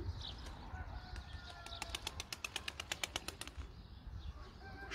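A frightened young game bird flaps its wings in a rapid burst of about a dozen close, sharp beats near a coop, with faint chirps and soft background noise before and after.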